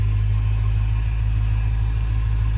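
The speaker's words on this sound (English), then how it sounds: "So here's a exhaust note of it just running with the stock exhaust." A BMW F10 M5 idles on its stock exhaust, giving a deep, steady, even rumble heard up close with no change in pitch and nothing else over it.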